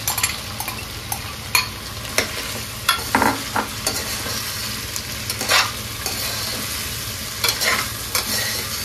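Vegetables sizzle in a pot for vegetable pulao while a spoon stirs them, scraping and clinking against the metal in irregular strokes over a steady frying hiss.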